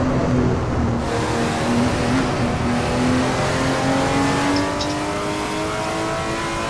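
A race car in the Assetto Corsa racing game drives near Eau Rouge with its engine revving steadily, the pitch slowly climbing as it accelerates, loud and continuous with gear whine and exhaust tone and no talking.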